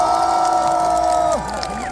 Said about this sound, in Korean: 그 격려 박수 한번 부탁드립니다.